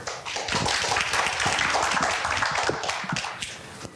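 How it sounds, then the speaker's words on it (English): Applause from a conference audience welcoming a Cambodian Ministry of Water Resources and Meteorology official to the stage, a dense continuous wash of clapping, steady and fairly loud throughout, with no talk. "So please give him a round of applause."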